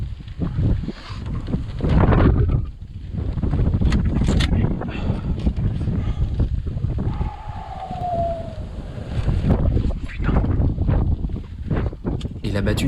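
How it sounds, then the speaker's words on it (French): Strong, cold early-morning wind roars and buffets the microphone in gusts during a driven wild boar hunt, loud and close, with faint low rumbling behind it and no clear talking. "Avec ce vent et cette fraîcheur très matinale"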